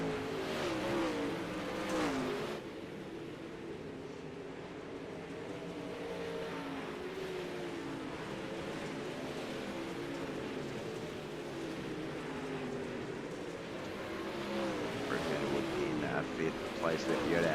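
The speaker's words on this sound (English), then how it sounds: "360 sprint cars here at Weedsport Speedway." Pack of 360 sprint cars racing at Weedsport Speedway in the iRacing game, a steady layered engine roar with shifting pitch as cars jostle, continuous and moderately loud throughout.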